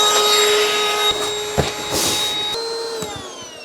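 Small electric pump inflating an air mattress inside a 2026 Tesla Model Y Performance, a steady close whirring drone with a high whine, broken by a few brief knocks and shifts in pitch.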